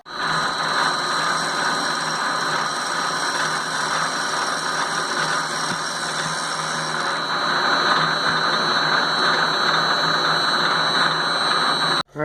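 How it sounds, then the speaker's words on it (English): An Iscar 3/4 inch indexable insert end mill machines turbo parts, giving a steady, unbroken mechanical whir and chatter with high tonal whine. It runs at even loudness for about twelve seconds with no talk, then stops abruptly. "I got a 3/4 inch indexable insert end mill Iscar, and these things are awesome."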